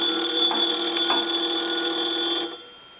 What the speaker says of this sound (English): I'm going to go ahead and ring it now.